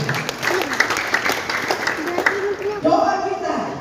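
A church congregation at a Christmas service bursts into lively clapping, sharp overlapping claps with a voice talking over them, before the applause gives way to speech near the end.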